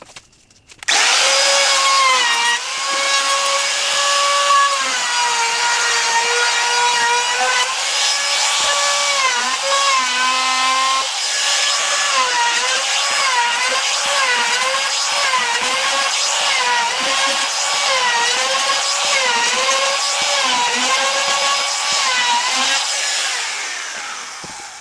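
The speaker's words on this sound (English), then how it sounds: "I want to take this 1/4 inch radius roundover bit and run along the edges" A router fitted with a 1/4 inch roundover bit runs along wooden shelf edges, a loud, steady high-pitched whine held for over twenty seconds with slight pitch dips as the cut loads, close and alone with no talk.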